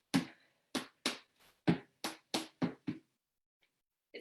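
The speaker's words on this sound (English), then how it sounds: "A click happens when you take your toe and you put it in behind your other leg." Light tap dance clicks from tap shoes in a soft shoe tap class, a run of about nine sharp, separate taps in an uneven rhythm, close and fairly quiet, with no talk over them.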